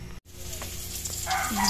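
Bangus (milkfish) frying in hot oil for crispy bangus, a loud, steady close sizzle with spattering pops that grows busier toward the end.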